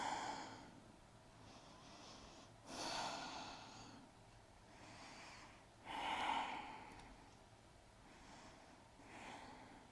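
Slow, audible breathing during a yoga forward fold, with long airy inhales and exhales in uneven swells and two stronger, sharper breaths, close and fairly quiet with no talking.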